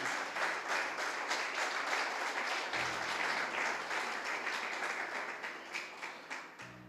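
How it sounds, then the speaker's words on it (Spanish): An audience at a Christmas-themed church teaching applauds in thick, continuous clapping that holds steady for several seconds, then thins into a few scattered final claps as it dies away. "Dale un aplauso al Señor."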